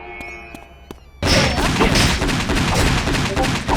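Gunfire in a battle-royale style shooter game: after a quiet, tonal lull, a loud dense burst of shots erupts and keeps going as sustained, close, heavy firing with crashing impacts.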